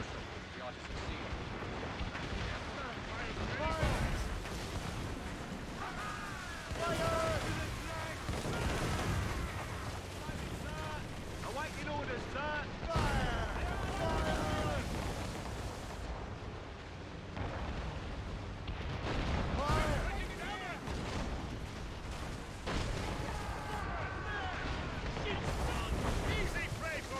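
Mortar and cannon fire booms repeatedly from ships in a naval battle in Assassin's Creed Rogue, loud and continuous, mixed with wind, water and shouting voices throughout.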